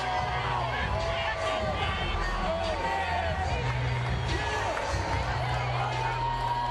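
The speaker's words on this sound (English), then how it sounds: "Hearing it, I would say, rather mildly from the crowd as he comes into view." An arena crowd reacts mildly as a heavyweight boxer comes into view before the Evander Holyfield vs James Toney fight. A steady crowd murmur runs throughout, and a commentator speaks over it.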